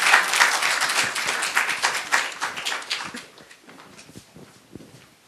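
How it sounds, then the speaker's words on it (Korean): An audience claps to welcome a professor to a university humanities lecture, a dense burst of many hands that thins and fades into scattered claps over several seconds. "박수로 환영해 주시기 바랍니다."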